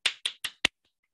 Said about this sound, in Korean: 바로 여기서 박수 한번 치겠습니다.